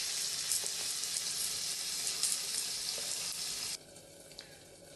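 Fish fries in a pan with a loud, steady, close hissing sizzle that drops off abruptly near the end, leaving a quieter sputter.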